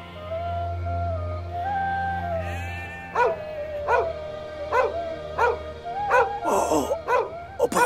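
A dog gives a run of sharp, evenly spaced barks and yips, loud and close, after a stretch of whimpering tones.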